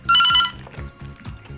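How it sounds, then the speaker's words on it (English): A Beetel B11 landline telephone rings loudly, a bright electronic trill that bursts on and then settles into softer repeated pulses, with nobody speaking. "Look friends, this phone has very loud ring."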